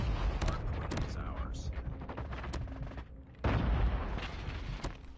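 Video game gunfire, sharp rapid shots in bursts with a brief lull then a louder stretch of shooting, close and punchy amid general battle noise.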